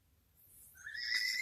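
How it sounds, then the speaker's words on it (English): A stallion nickers at a mare in heat by a fence, a faint low rumble swelling into a brief, higher whinny-like call near the end, with no talk. "You're just going to stand there at the fence and nicker at her."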